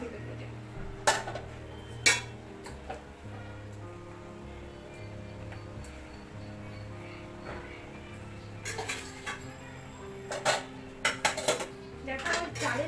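Papaya pieces go into a cooking pot with rice and dal, followed by repeated clinks and scrapes of a spoon against the metal pot, the stirring louder near the end over a low background hum.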